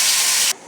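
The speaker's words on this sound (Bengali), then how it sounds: "এখন আমি ওগুলো ভেজে নিব।" Pieces of rui fish fry in hot oil in a wok, giving a loud, dense sizzling hiss that cuts off abruptly partway through, leaving a faint quieter sizzle.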